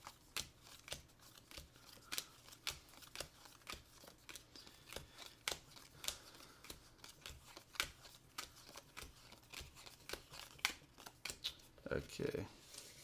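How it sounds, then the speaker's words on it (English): A deck of cards for the Giant Killer Robots: Heavy Hitters board game is shuffled in quick, light riffling clicks and snaps, fairly quiet and close, with a soft voice faintly underneath. "So let's shuffle these up"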